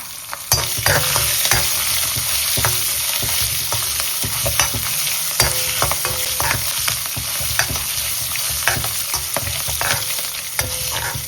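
Byadagi chilies, curry leaves and green chilies sizzle steadily in hot oil for a South Indian tempering, a continuous close frying hiss broken by stirring clinks and scrapes, with no talking.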